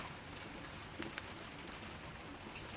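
Steady rain falling on a rural vintage country house, a soft continuous hiss with a few faint drips, heard alone without any voices.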